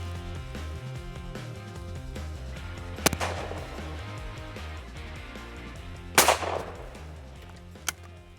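Beretta SL2 Sporter sporting clays shotgun firing on a looper target at the 12th stand: two sharp, loud reports about three seconds apart with a fainter crack later, over steady outdoor background noise.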